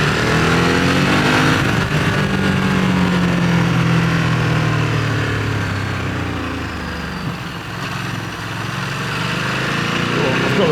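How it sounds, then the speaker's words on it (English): A Ducati DesertX motorcycle in sport mode drones steadily as it rides, its engine pitch rising and falling through the bends, with wind noise over it. "I've got the bike back on sport mode today, and it's a lot more jumpy out of the bends"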